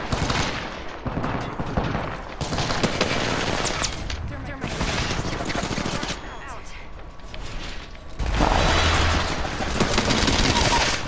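Bursts of rapid video-game gunfire crackle in several loud volleys with short gaps, a heavier burst near the end, while players talk over the shooting.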